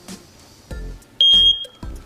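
A single high, piercing smoke alarm chirp rings out briefly amid soft low thumps and background noise.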